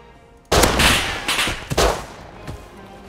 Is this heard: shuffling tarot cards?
no